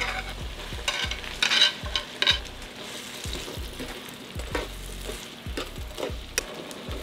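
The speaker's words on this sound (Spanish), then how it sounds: "Ahora sí vamos a poner el ajo, la cebolla, el pimentón y el tomate." Garlic, onion, bell pepper and tomato sautéing in rendered pork fat for charro beans: a bright, steady sizzle with repeated spoon scrapes and low thumps of stirring, close up, no voices.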